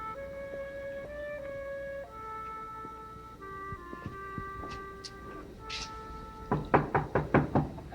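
Several sharp knocks on a door come in a quick, evenly spaced run near the end, sounding close and clear over a soft background of sustained musical tones; no one speaks.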